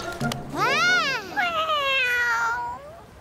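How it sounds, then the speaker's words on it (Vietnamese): Animated cartoon cat meowing, one long rising and falling meow followed by a second drawn-out wavering cry, close and clear, with a brief child-like voice at the start. "Là một con mèo."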